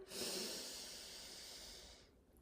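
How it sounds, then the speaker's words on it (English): A person takes a long, steady deep breath in, airy and close, lasting about two seconds during a guided breathing exercise before fading to quiet. "let's just take some deep breaths."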